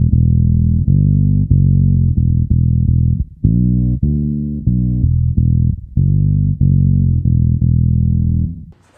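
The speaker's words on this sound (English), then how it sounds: "The modern thing where you have like all your dry signal out and just the octave signal on." Deep bass guitar through an octave pedal with the dry signal removed so only the low octave tone sounds, sustained rumbling notes played in a steady line, loud and alone with no voices.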